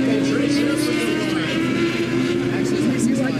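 A dirt track race car roars past at Salina Speedway, a loud, steady engine drone that fills the whole stretch, with crowd and ambient noise mixed in.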